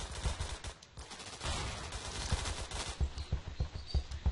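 Rapid automatic gunfire in the Roblox game Phantom Forces, bursts of shots overlapping with other game sounds, steady and fairly quiet throughout.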